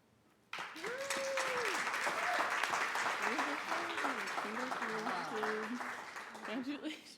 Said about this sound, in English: let's give her just one more round of applause because she's really done so much work